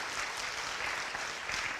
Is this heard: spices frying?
no